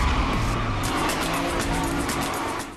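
Cars racing in Need for Speed Hot Pursuit (2010), a high-speed racing game with police pursuits: a loud, continuous engine roar with tire squeal and skidding throughout, fading slightly at the end.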